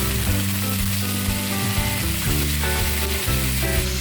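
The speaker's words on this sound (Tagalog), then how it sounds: "Sunod naman ang 1 kilogram ng chicken. I-sear both sides ng 5 minutes." One kilogram of chicken sears in a hot pan, a steady loud sizzle and crackle of frying that runs unbroken for a few seconds with no voices.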